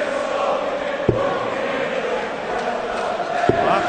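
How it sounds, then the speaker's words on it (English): Darts crowd at the 2012 PDC World Matchplay quarterfinal chanting steadily for a favourite player, a dense continuous roar of voices in a large arena with a couple of sharp thumps. "In the crowd, again, airing their views on who their favourite is"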